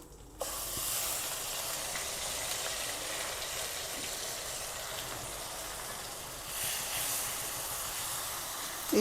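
Onion paste frying in hot oil for a Bengali egg roast, a steady loud hiss and sizzle that starts abruptly and continues close-up without talk.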